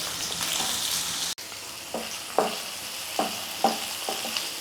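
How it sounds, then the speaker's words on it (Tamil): Onion, green chili, ginger and garlic sautéing in oil in a kadai, a bright steady sizzle with a run of crisp spatula scrapes and knocks against the pan, close by. "பச்சை மிளகாய் இஞ்சி எல்லாம் ஒரு ரெண்டு நிமிஷத்துக்கு வந்து நல்லா வதங்கட்டும்"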